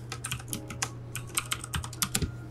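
Rapid typing on a computer keyboard while a layer name is entered in editing software, a quick run of close, crisp key clicks with short pauses and no voice.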